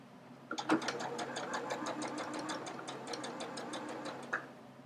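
A sewing machine stitches bias tape onto a V-neckline, a steady rapid ticking run of needle strokes lasting several seconds, close and moderately loud with no talking.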